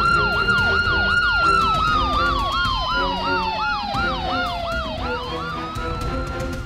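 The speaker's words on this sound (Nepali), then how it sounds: "यहाँ स्याकुमा एम्बुलेन्स पठाइदिनु न" An ambulance siren wails in fast, repeating rising-and-falling sweeps, with a second siren tone gliding slowly beneath it, loud and fairly near with no talking.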